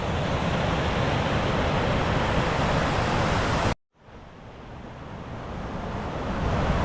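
A river flows as a steady, broad rushing wash. It cuts out abruptly midway, then swells back gradually to full strength.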